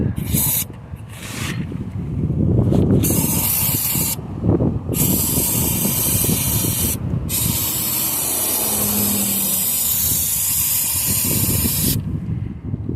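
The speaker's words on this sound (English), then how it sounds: "Before we go to filling it, brake clean. I'll clean the top side of that skid plate." Brake cleaner sprays from an aerosol can onto the top side of an Arctic Cat snowmobile's skid plate in several loud, close hissing bursts, some short and some sustained, with background rustling between them.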